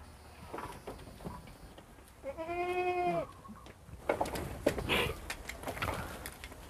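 Goats bleating on a Thai goat farm: one clear, drawn-out bleat in the middle, with scattered shuffling and other animal noises before and after, at moderate loudness and no talk.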